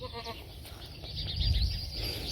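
Soay sheep bleating out in a grazed farm field, a short wavering call near the start followed by outdoor rumble and faint background noise.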